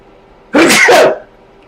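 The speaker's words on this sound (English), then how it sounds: "Sneezing." A man sneezes once, close and loud, during a gaming session, with a sharp burst and no talk around it.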